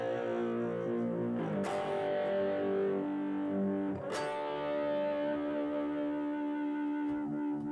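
Heavy distorted electric guitar plays sustained power chords, moving from a flat 6 to the 1, with thick, buzzing overtones and no talking.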